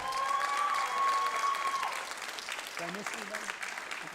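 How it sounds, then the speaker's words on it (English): A concert audience claps for graduating seniors of the class of 2024, a steady wash of applause filling the hall while a voice speaks over it. "Let's have a giant round of applause for all our seniors, class of 2024."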